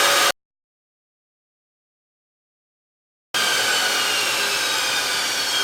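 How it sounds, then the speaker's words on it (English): Drill boring a hole in a part for a Starrett surface gage, a steady high whining grind starting abruptly after a few seconds of silence and running on loudly to the end. "Let's drill this and see what goes."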